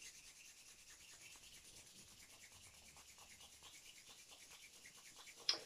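Hands rubbed briskly together to warm them before a qi gong eye exercise, a steady close-up swishing friction that runs continuously and ends with a brief louder stroke.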